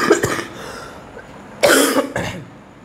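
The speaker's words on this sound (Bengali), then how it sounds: "সরি, একটু কাশি হয়ে গেছে" A man coughs alone in a quiet room during a physics lesson, a few short barks early on and then two louder, harsher coughs near the end.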